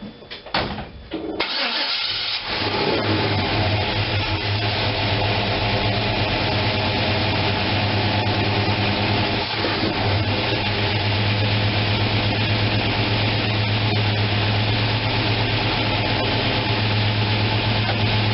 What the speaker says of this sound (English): It's idling at 700.